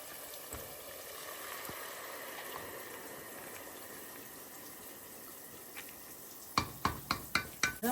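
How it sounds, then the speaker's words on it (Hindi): Meat being stirred and fried in oil for homemade haleem, a steady close sizzle with soft scraping, ending in several sharp clinks of a spoon against the pot. "इसको अच्छी से भूनना है कोई 7 से 8 मिनट्स के लिए।"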